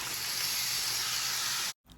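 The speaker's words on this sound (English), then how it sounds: "Add your beef and hear it sizzle." Beef strips hit a hot pan with two to three tablespoons of vegetable oil, giving a steady, bright sizzling hiss close by that cuts off abruptly near the end.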